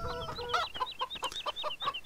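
Chickens in Farming Simulator 17 cluck in a rapid, close series of short rhythmic notes, clear and alone.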